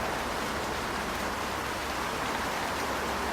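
Steady rain falling with an even, unbroken hiss that fills the space around a large bathroom with a floor-to-ceiling window over a valley. It stays constant and fairly close, with no talk over it.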